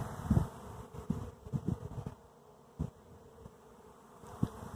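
A swarm of bees buzzes faintly and continuously outdoors at the edge of southeast Austin, with scattered louder hums as individual bees fly close past, and no voices.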